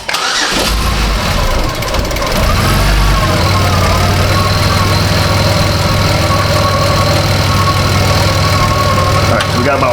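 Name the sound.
2005 Chevrolet Equinox 3.4 engine starting and idling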